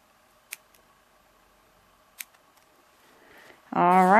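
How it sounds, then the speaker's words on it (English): Two crisp snips of scissors cutting thread on a sock monkey craft, spaced well apart in a quiet room, before a voice begins to speak at the end. "make sure you cut your thread off there also"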